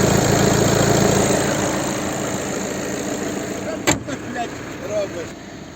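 A 2016 Volkswagen Caddy Life 2.0 TDI diesel idles and rumbles nearby, steady at first, then a door-like thump and shifting engine noise as the vehicle settles close by.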